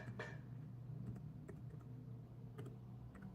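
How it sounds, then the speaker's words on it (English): Keys on a ThinkPad X13 Gen 1 laptop keyboard are pressed, giving soft scattered clicks at an uneven pace, faint over a steady low hum. "if I have to test the function key, I have to press the FN key"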